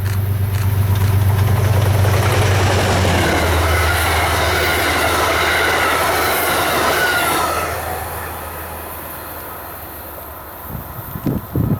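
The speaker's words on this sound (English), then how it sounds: "we got Amtrak 283 just after 5:10 p.m." An Amtrak passenger train on CSX's Mohawk Subdivision rumbles loudly past up close, its roar holding steady for several seconds before fading, with a few clanks as the last cars go by.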